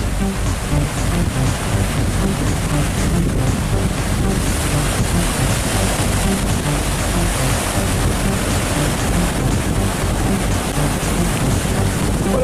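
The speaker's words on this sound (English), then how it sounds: "Wind's starting to pick up a little bit." Strong wind roars steadily at a beach as a hurricane approaches, buffeting the microphone with constant loud rumble and hiss, with surf in the background and no speech.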